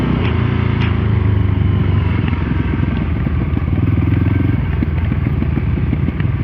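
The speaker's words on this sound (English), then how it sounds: "there's enough engine braking on that" A Voge 300 Rally motorcycle engine rumbles steadily while engine braking in second gear, with a crackling, popping exhaust and wind noise, close and loud.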